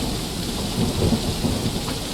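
Rain and rolling thunder in the video game Sound Dungeon, a steady wash of rainfall with a low rumble swelling briefly in the middle, heard alone with no voices.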